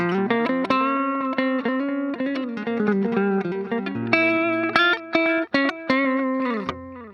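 An electric guitar plays a fast, distorted metal riff through a Zoom G1 Four multi-effects unit set to a 57 cabinet with boosted highs: chugging palm-muted notes and choppy, sharply cut-off chords with abrupt stops, loud and close with no talking.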